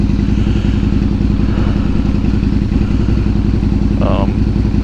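Motorcycle on a cold highway ride, a steady loud engine drone and wind rumble running throughout with a brief clatter near the end.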